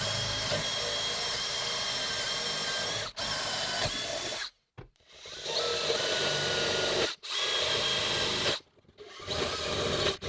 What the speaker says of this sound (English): So I'm going to have to countersink from the inside.